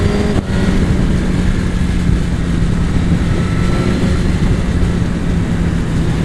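A 2017 Suzuki GSX-R1000R track motorcycle engine runs with a steady, loud, continuous drone throughout, with no talking.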